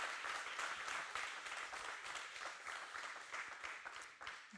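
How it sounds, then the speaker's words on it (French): An audience at a startup pitch event claps for a presenter, a fairly faint but steady patter of many hands lasting a few seconds with no voices over it. "on peut applaudir Audrey"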